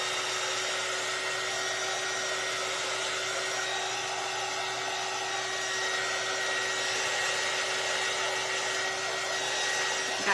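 A small electric dryer blowing on paint on a craft watermelon, a steady close whirring hum with a constant high whine, running unchanged and alone for about ten seconds.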